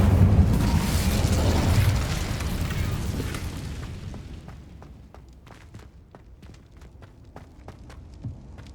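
A fiery Incendio spell cast in Hogwarts Legacy erupts in a loud, roaring whoosh that fades over several seconds into quieter crackling and scattered pops.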